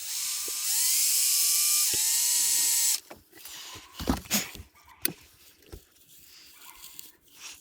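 A power tool whines in steady high-pitched bursts for about three seconds, then a hand ratchet clicks in short irregular strokes, close by, as a mounting plate is bolted down during a 1994–1997 Honda Accord double-DIN radio install.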